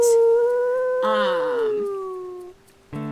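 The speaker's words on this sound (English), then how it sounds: "we gotta actually howl here first" Wolf howling in the video game WolfQuest, a loud, close, sustained tonal howl that bends and wavers, overlapped by a second howl, then a brief break and another voice starting.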